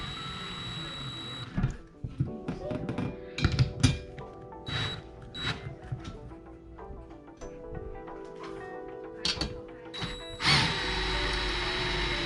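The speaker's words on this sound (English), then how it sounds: "you can hear the drill trying harder" A power drill drives a screw into a wooden wall stud while mounting a TV, whirring in several short bursts separated by pauses, the motor straining and rising in pitch, moderately close with a faint high whine in the room.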